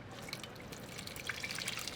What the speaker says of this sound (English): Just pour this into a fine sieve.